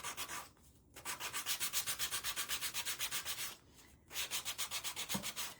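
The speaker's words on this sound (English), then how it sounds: "I'm just sanding over the top and sanding the edges and kind of going in both directions to get that look" Hand sanding back and forth across the top and edges of a wooden craft piece, a close rhythmic rasping of quick strokes that pauses briefly twice.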